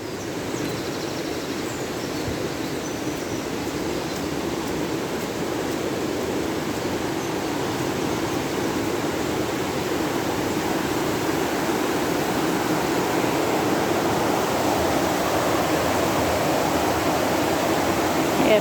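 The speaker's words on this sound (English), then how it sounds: "Yeah, fast flowing water today." Fast-flowing river water rushes steadily along a riverside path, a dense, continuous broadband roar close by that stays loud and unbroken from start to finish, with no voices.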